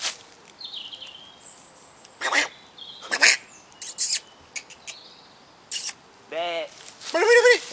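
Birds call in French woods, with scattered chirps, whistles and quacking notes coming in short, irregular bursts at moderate distance, mixed with rustling; people talk intermittently.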